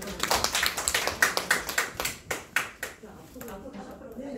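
A small group at a childcare policy forum gives a round of applause. The claps are distinct and fairly close, in a quick uneven rhythm that slows and thins out after about three seconds.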